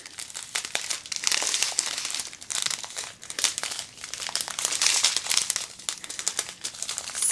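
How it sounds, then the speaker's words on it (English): Continuous crinkling of plastic diamond art packs, close and busy, with irregular crackly bursts and no talking. "Sorry about all the rustling."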